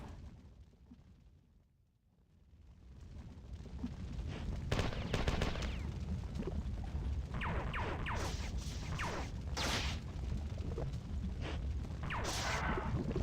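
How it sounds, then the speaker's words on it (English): Heavy shotgun blasts in the Marathon video game sound over a rumbling background with scattered sharp crashes and repeated punchy reports. The scene starts quieter, then grows loud and busy. "that's a pretty beefy shotgun"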